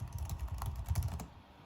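Typing on the keyboard of a 2005 Acer Ferrari 4005WLMi laptop, a soft, quick patter of key clicks, close and fairly quiet.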